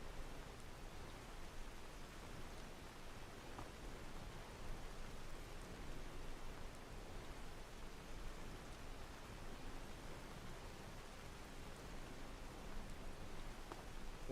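Rainy ambience in Markarth from a video game: a soft, even wash of falling rain, steady and fairly faint throughout with no voices.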